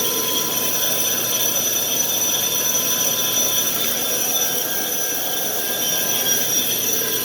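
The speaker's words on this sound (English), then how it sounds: "the chuck actually engages and starts spinning" A Sioux 645L grinding machine runs with its chuck spinning, giving a steady, continuous mechanical hum with a faint high whine and no change in level throughout.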